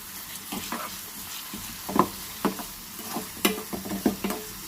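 Ingredients fry in coconut oil in a pan, a soft steady sizzle punctuated by sharp scraping stirs of a utensil every second or so, close and fairly quiet, with no talking.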